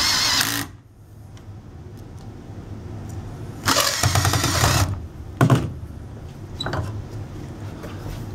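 A power drill drives screws into a wooden horse bow kit on a low torque setting: a short whirring burst, a pause, a longer run, then two brief blips, heard up close.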